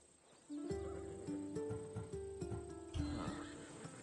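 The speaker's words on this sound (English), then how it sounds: "That horse can cling to mountain passes like a goat." A horse in a video game whinnies loudly and at length, a clear wavering neigh with snorting breaths, heard alone against a quiet background.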